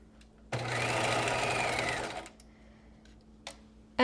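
A sewing machine runs one steady burst of stitching for about a second and a half, sewing the seam of a knit jewel neck top. Faint clicks of handling follow in a quiet room.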